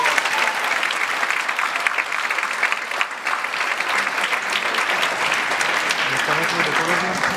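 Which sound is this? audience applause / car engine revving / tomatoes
audience applause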